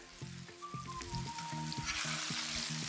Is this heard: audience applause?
no